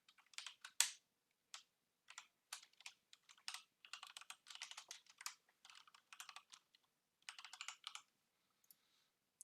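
Fingers type on a computer keyboard during Python coding, in quick irregular bursts of crisp, close key clicks separated by brief pauses.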